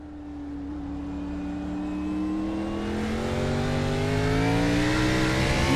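Cup car engine on the Daytona road course in iRacing, a loud, steady onboard drone that rises in pitch as the car accelerates through the gears, with no voices.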